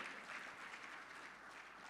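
An audience applauds to welcome a woman to the microphone at an African diaspora gathering, a steady, soft wash of many hands clapping, heard at a distance with no voices over it.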